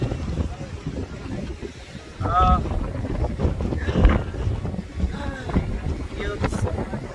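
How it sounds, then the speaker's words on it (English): Strong wind buffeting a microphone at a Cancun beach in December, rough gusty rumble throughout with a person talking over it. "it's very windy"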